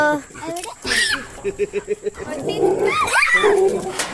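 A dog lets out a quick run of short, rhythmic barks at close range, mixed in among people's voices talking nearby.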